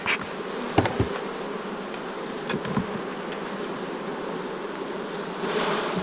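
A steady, dense buzz of many honey bees around an open hive fills the air close by, with a few sharp knocks and clicks breaking through.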